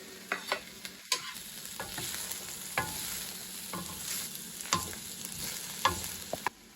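Soft sizzling of vegetables frying in a pan over very low heat, with scattered clacks and scrapes of stirring, close and moderately quiet, no voices.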